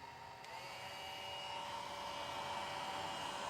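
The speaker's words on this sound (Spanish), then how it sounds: "Vos manejar el secador." A hair dryer runs steadily throughout, a loud continuous whirring drone held close during an electricity lesson measuring its current draw.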